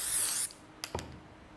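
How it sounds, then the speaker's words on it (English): Adhesive spray hisses onto a fabric panel in one loud, close burst of under half a second, followed by a couple of faint clicks and rustles of handling. "and then I'll spray that here."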